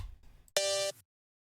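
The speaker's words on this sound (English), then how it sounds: "We have the Chainsaw Party Cowbell making a comeback of a classic sound here." A Chainsaw Party Cowbell sample from the Bananas Haunted Mound Kit rings out once as a bright, sustained metallic tone for about half a second, then cuts off into silence after a faint low rumble.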